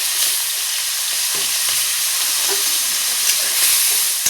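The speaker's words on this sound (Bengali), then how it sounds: "তেলটা গরম হয়ে গেছে বন্ধুরা, এখন আমি চিংড়ি মাছগুলো সুন্দর করে ভাজা করে নেব।" Shrimp fry in hot oil for a Bengali potol chingri dish, giving a loud, continuous hissing sizzle close to the pan with small pops and crackles and no talk.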